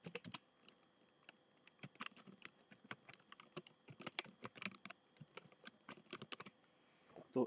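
Keys clatter steadily on a computer keyboard as a web address is typed in, irregular bursts of close taps with brief pauses, no voices, ending in a slightly louder cluster of strokes.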